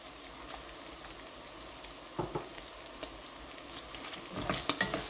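Mutton pepper fry being stirred in a pan after pepper powder and curry leaves are added, with faint sizzling and scattered scraping strokes that grow louder and busier toward the end.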